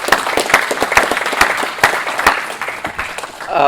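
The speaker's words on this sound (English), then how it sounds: "let's give Paul a round of applause as well." A room full of guests applauds at a coin release event for the Texas Innovation Dollar, steady dense clapping with a few sharper close claps standing out, loud and continuous.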